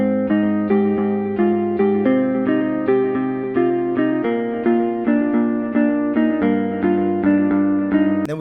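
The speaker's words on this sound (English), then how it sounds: "we have a melody that perfectly bounces off of our bass notes" An EDM synth melody rides over a punchy bass line, bright effected synth notes bouncing in a tight repeating pattern with reverb and slight distortion, loud and up front for about eight seconds, ending with a short noisy burst.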